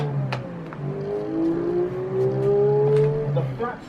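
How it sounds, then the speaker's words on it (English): A Porsche 4.0-litre flat-six turbo engine revs up steadily, its pitch rising over several seconds in a loud, smooth, sustained drone. "Horizontally opposed engines have a distinct sound"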